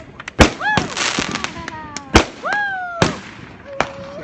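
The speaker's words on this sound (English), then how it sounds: "I hate fireworks." Fireworks burst outdoors in the rain in the South, several sharp loud bangs at irregular intervals, some followed by whistling rising and falling tones, with people's voices reacting faintly between blasts.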